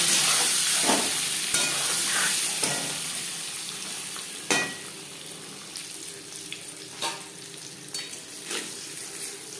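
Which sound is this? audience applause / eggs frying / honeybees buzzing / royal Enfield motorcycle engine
eggs frying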